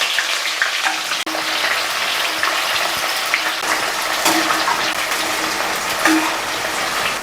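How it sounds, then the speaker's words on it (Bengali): Onions frying in hot oil seasoned with dried red chillies and five-spice, a steady close sizzle with occasional soft stirring clicks, no voices. "বাদামি কালার পেঁয়াজ ভাজা হয়ে গেছে"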